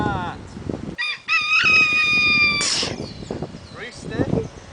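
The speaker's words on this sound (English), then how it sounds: "Rooster." A rooster crows once in Puerto Rico, loud and close, against background murmuring voices and outdoor noise.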